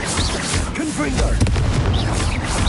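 Confringo blasting spell in Hogwarts Legacy, a loud booming blast with a dense noisy rumble and crackling debris.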